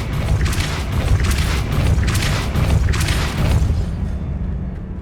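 A Depulso force spell cast in Hogwarts Legacy on PS5, a series of loud, booming magical blasts pulsing roughly every second with a deep rumbling body, fading out at the end.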